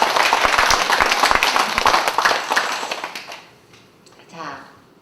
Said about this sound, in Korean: 우리 장로님께 박수 한번 쳐드렸습니다